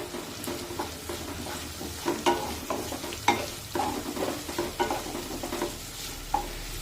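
Thinly sliced onions sautéing over a medium flame in a pan for a dry potato dish, a steady sizzle broken by repeated scraping stirs of a spatula, close and fairly loud with no talking.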